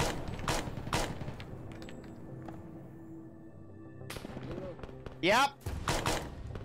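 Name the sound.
gunfire from video game Arma 3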